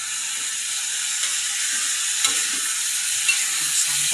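Janggel mushrooms stir-fried in water instead of oil, a steady hissing sizzle with occasional faint scrapes from stirring, close and constant, with no speech.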